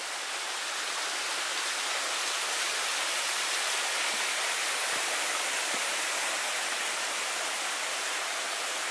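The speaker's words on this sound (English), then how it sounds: "Got a pretty waterfall here." A waterfall beside a mine adit at Italy's Monte Arsiccio mine gives a steady, dense rushing roar that stays constant and fairly close for the whole stretch.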